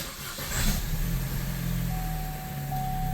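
A Chevrolet Cruze engine idles steadily after a timing chain replacement, a continuous mid-range hum with a faint high whine, loud and close throughout, with no talking.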